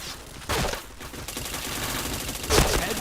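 Video game gunfire comes as bursts of rapid shots over a steady rattling background, loud and near, with two louder volleys standing out.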